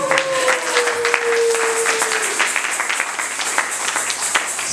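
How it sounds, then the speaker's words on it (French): A church congregation claps and cheers together in dense, sustained applause that stays fairly loud throughout, with a brief sung or held tone near the start. "Acclamons pour la gloire."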